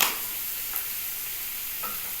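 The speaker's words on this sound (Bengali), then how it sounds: "আমি একটু সামান্য জিরে পোড়ন দিচ্ছি" Cumin seeds temper in hot oil for a Bengali soybean and papaya ghonto, giving a faint, even sizzle with a couple of soft stirring taps and no talking.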